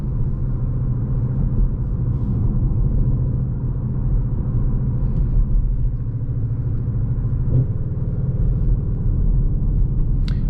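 A 2021 Škoda Octavia RS in sport mode plays its artificial engine sound during a night drive: a steady, loud, low cabin rumble that holds level throughout with faint road noise.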